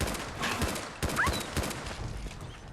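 Gunfire in the video game Mind Games, a burst of rapid shots in quick succession followed by a few more scattered cracks, loud and close against a continuous noisy game background, with no talk.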